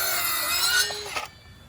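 Power saw cutting 2x8 lumber for dock framing, a steady buzzing cut lasting over a second before winding down and stopping, fairly close.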